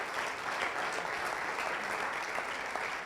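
Steady, full-room applause rises from a church congregation during a service, a continuous dense patter of many clapping hands.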